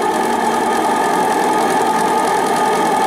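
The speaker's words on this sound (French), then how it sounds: "Elle travaille quand le moteur tourne à bas régime." A Stuart D10 live steam engine driving a water pump runs at low speed, giving a steady, close mechanical chugging with a fast, even rhythmic knock and no voices.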